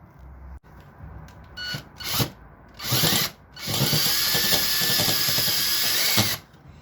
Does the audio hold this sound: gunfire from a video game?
no